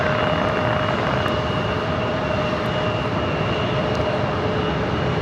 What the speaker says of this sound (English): This arrival is Alaska Airlines 936 coming in from Fort Lauderdale